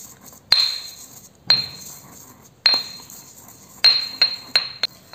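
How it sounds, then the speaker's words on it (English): Kesari is roughly pounded in a pestle and mortar, giving sharp ringing clinks and knocks, six distinct strikes spaced about a second apart, close and clear against a quiet room with no talking. "Now, in the pestle and mortar, I'll add the kesari and roughly grind it."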